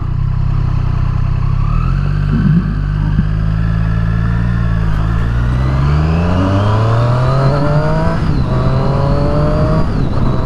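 A 2018 Triumph Street Triple RS motorcycle engine revs up loudly and steadily through several rising gear pulls, close and clear with no talking.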